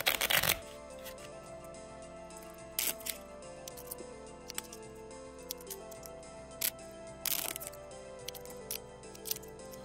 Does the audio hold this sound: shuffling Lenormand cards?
yes